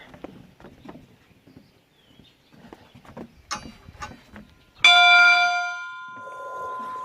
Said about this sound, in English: There's a school bell.